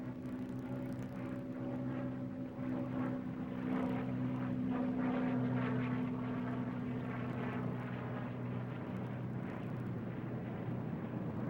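A P-51 Mustang propeller aircraft landing, its engine a steady droning hum with rough, throbbing overtones that holds at moderate level throughout, with no talking.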